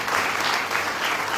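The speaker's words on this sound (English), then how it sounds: "please make me a round of applause" Dense, steady applause from a gathered audience at an evening Hindu religious program during a South African tour, a continuous even wash of clapping that holds at a constant loud level throughout.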